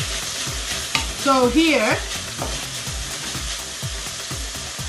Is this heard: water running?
no